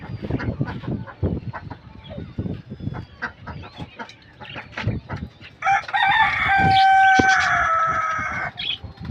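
Chickens cluck and peck close by, with a rooster crowing loudly and steadily for a couple of seconds near the end.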